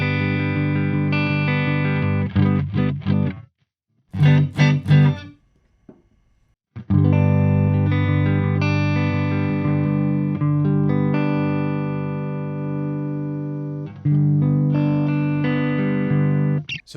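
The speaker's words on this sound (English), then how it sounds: "Squash is a compressor, and it adds in some really nice overdriven saturated tones" An electric guitar through a Chroma Console's Squash compressor plays sustained saturated, overdriven chords with a few short choppy strums and pauses, loud and upfront.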